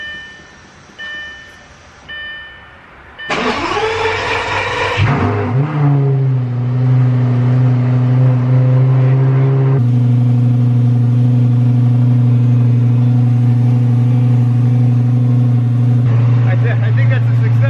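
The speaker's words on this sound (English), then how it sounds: "we're going to do a startup and make sure there's no exhaust leaks" A Lamborghini fitted with a newly installed custom exhaust starts up loudly after a few seconds of quieter sound, then settles into a deep, steady idle that holds with a slight rise near the end.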